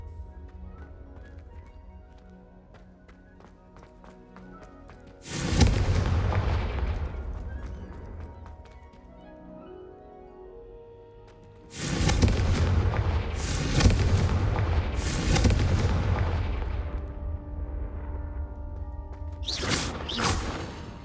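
Blasting-curse explosions in the Hogwarts Legacy game: several loud, booming blasts with long rumbling tails, the first on its own and then a dense cluster of bursts, over a quiet ambient game score.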